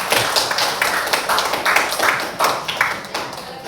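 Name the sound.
applause for group 3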